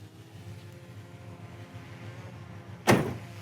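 A single door of a 1969 Chevelle slams shut with a sharp, solid thud near the end, following a stretch of quiet idling rumble.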